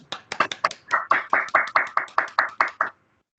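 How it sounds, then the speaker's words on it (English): Close, crisp hand claps in a steady rhythm, about seventeen in a row, honouring first-time Elite members at a Bike MS NYC virtual recognition ceremony, stopping abruptly into silence. "give them a special round of applause"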